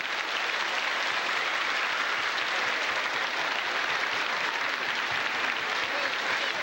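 A church congregation applauds together, a dense, steady wash of clapping hands that holds at an even level for several seconds, full and close with no clear speech over it.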